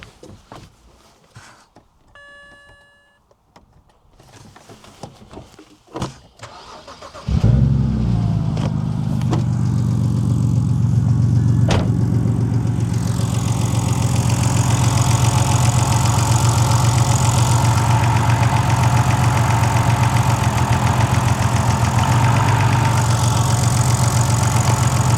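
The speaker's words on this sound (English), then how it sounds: "So connect this one here and start the car again." A BMW drift training car with a faulty fourth cylinder and a misfiring coil plug cranks and starts after a few seconds of quiet handling noises, then idles loudly and steadily with a rough, throbbing hum.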